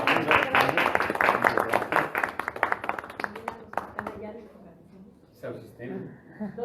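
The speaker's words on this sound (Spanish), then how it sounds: "Le damos un aplauso al doctor." Seminar audience applauding a sociology lecturer, dense clapping for about four seconds that thins out and fades, followed by a few faint voices.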